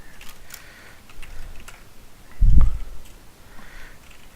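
A command is typed on a computer keyboard, heard as a short run of light key clicks close by, with one heavier thump near the middle.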